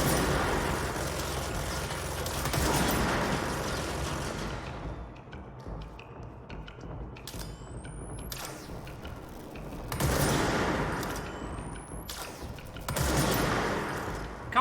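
Sustained automatic turret gunfire in the video game Control, loud dense bursts with mechanical clatter, easing off mid-way then flaring again in heavy volleys toward the end.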